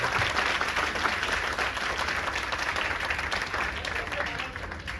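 A banquet hall crowd claps loudly and continuously, a dense wash of applause from many hands that holds steady throughout, with faint voices underneath.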